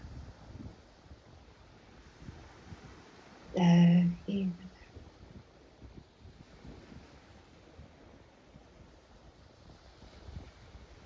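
Steady ocean surf washes softly in the background of a calm meditation, a low continuous wave wash beneath a quiet, close voice speaking gently.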